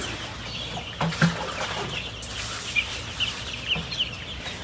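Chickens cluck in a loose, scattered flock, with soft overlapping calls and a few sharper peaks standing out against steady farmyard background noise. No one speaks.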